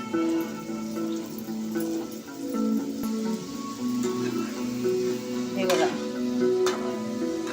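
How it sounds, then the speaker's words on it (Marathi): Modaks frying one by one in hot oil, a steady soft sizzle running throughout with faint clinks. Background tones and a distant voice drift underneath. "तेल तापलं आहे मी आता हे मोदक एक एक एक एक सोडणार आहे"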